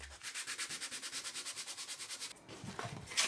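Sandpaper is rubbed by hand across birch wood in quick, regular back-and-forth strokes, about two dozen close rasping passes that then trail off into a few rougher scrapes.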